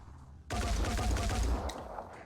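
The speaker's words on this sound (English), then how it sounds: "You see that they're shooting in bursts, number of shots, 6." Rifles in the video game Phoenix Point fire a rapid burst of about six shots, a loud, tightly spaced volley that cuts in abruptly after near-silence and then tails off.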